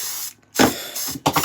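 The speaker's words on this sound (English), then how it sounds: "we're going to put a little bit of hairspray" Hairspray sprayed onto a person's hair while getting ready, heard as two close, hissing aerosol bursts, the second shorter, with no talking.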